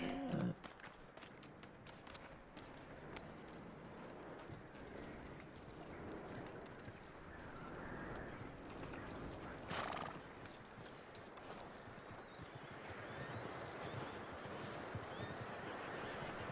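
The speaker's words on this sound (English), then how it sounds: "That looks like a decent horse." In the video game Red Dead Redemption, horse hooves clop steadily over ground with a whinny near the start, the rhythmic hoofbeats continuing for the whole stretch, fairly faint and mixed with ambient game noise.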